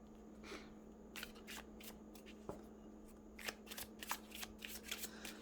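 A deck of tarot cards is shuffled close by in quick riffling bursts, several crisp rapid flurries separated by short pauses over a faint steady hum, with no talking.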